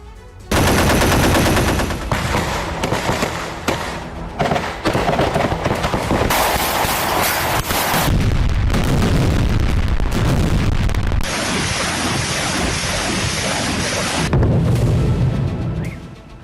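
Gunfire and explosions from the war in Ukraine, loud rapid bursts of automatic fire mixed with heavy blasts and crackling, continuous and close.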